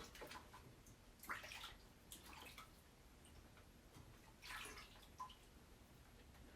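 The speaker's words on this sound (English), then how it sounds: "just gonna put these in the thing of water." Chalk-coated stencils being rinsed in a container of water, with faint, intermittent splashes and swishing, close and quiet.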